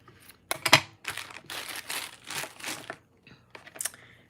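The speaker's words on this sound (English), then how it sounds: "cut a little piece of this lace off" Several short, dry snipping and crinkling bursts come up close as a small piece of lace is cut at a craft table, with brief quiet gaps between the cuts.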